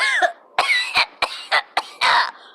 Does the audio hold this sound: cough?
yes